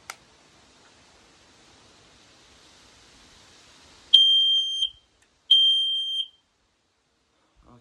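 A store-bought smoke alarm under test gives two loud, piercing electronic beeps, each under a second long with a short gap between, after a few seconds of near silence and faint rustling.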